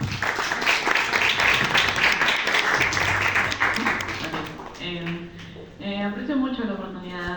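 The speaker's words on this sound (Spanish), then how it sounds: "Aplausos, por favor." Audience applause at a literature conference, a thick burst of many hands that fades after about four seconds, giving way to a speaker's voice.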